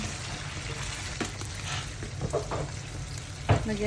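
Pork sisig sizzles in a frying pan while being stirred, with steady crackling frying and scattered utensil scrapes and taps, one louder knock near the end, up close.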